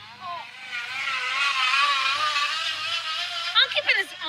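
A bicycle fitted with an exhaust gives off a buzzing, motor-like drone that rises and wavers like a small engine, with voices cutting in briefly near the end.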